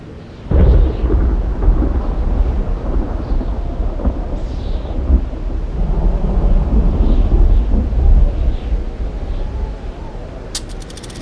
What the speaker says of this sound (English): Oh man, a lightning storm of all things.